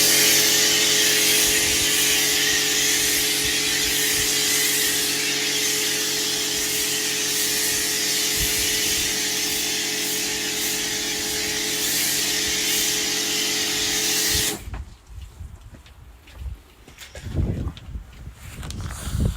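Cleaning product sprayed steadily onto a caravan exterior, a continuous hissing wash held close for about fourteen seconds before cutting off, leaving faint rustling and handling noises.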